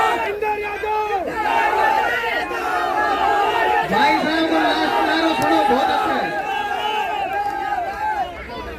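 A large crowd at an Indian political rally chants the slogan 'Bharat Mata ki Jai' in unison, a dense, loud roar of many voices sustained throughout with rising shouts.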